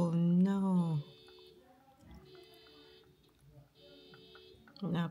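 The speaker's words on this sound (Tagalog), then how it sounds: "Napindot yung alarm." An alarm accidentally pressed emits repeating electronic tone pulses, roughly one-second beeps with short gaps, moderately loud and steady, while people talk at the start and end.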